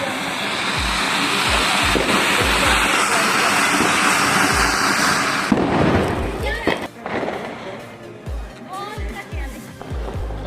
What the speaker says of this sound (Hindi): हमने सब ने मिलकर बहुत सारे पटाखे चलाए जिसमें ये 70 शॉट वाला बहुत ही अलग सा एक्सपीरियंस रहा